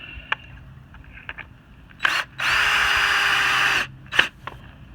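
A power drill drives a decking screw in one loud, close whirring run of about a second and a half, bracketed by a couple of short trigger blips and light handling clicks.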